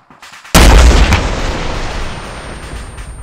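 A single heavy blast from an MK153 Mod 0 SMAW rocket launcher fired inside a large room in Arma 3, loud and close, its boom rolling into a long reverberant decay.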